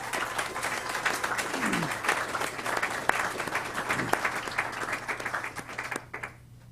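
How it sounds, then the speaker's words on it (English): An audience applauds students at a signing day at TCAT Hohenwald, with dense, steady clapping that fades out near the end. "if you would help me, please give them a round of applause"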